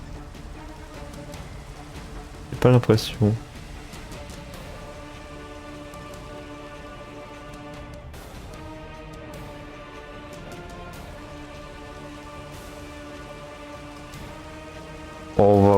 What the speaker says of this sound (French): je trouve qu'elle est pas assez prononcée la pluie